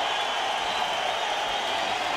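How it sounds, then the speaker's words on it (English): A boxing arena crowd at Dodge Arena cheers and applauds in a dense, continuous roar that holds steady at an even loudness throughout. "And the crowd here at Dodge Arena on its feet."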